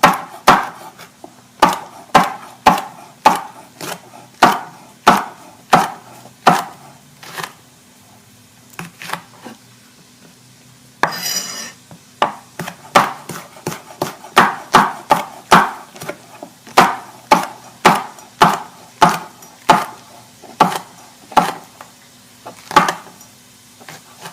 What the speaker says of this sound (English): I'm just going to slice the jalapenos.